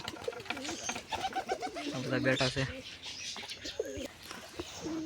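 Pigeons coo softly in low repeated rumbles while someone speaks nearby, with occasional chirps in the background.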